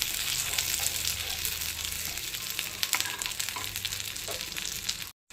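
Chicken malai kebabs fry in ghee and oil in a pan, giving a loud, steady sizzle with crackling bursts, close and continuous.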